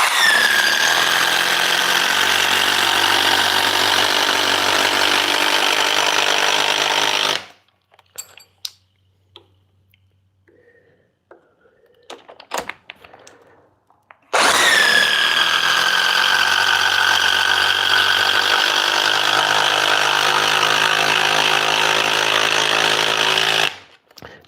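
A Ridgid Stealth Force hydraulic impact driver runs at speed 3 in two long, loud bursts of high whirring and rattling hum, separated by a pause filled with small clinks and handling noises.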